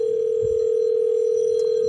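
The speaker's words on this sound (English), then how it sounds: "So Alexa's giving me a phone call." A steady electronic calling tone from a phone call placed through the Alexa voice assistant, held continuously for about two seconds and then cut off, with no speech.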